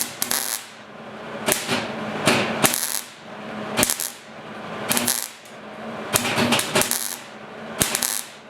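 Metal parts clatter and clink while a panel is bolted onto the quarter panel of a 1969 Ford Bronco under restoration, with sharp tool clicks and ratcheting in irregular bursts, close and fairly loud.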